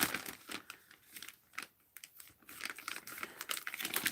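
Paper for an art journal being cut layer by layer, making close, dry crinkling and crisp scraping bursts in an uneven rhythm with brief pauses and no talking.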